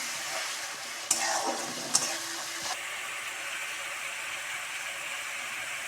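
Onion paste dropped into hot mustard-free oil tempered with nigella seeds, crackling into a loud steady sizzle with two sharp bursts as it hits the pan and is stirred, then settling into an even hiss.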